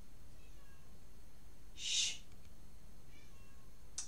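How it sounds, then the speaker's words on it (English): A house cat meows once, loud and fairly close, trying to get into a closed room, with a faint high call near the end; a voice quietly shushes. "My cat is still trying to break in."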